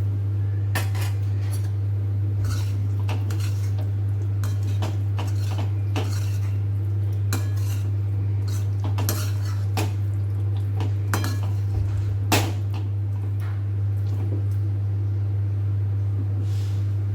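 Steady scraping and clinking of a spoon against a pan while spices are stirred into bhungda bataka, repeated irregular metallic taps over a constant low hum, with no talking.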